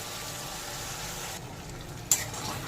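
Ground mustard paste sizzling in a pan with ginger, a steady close hiss that dips briefly, then a sharp clink of a utensil.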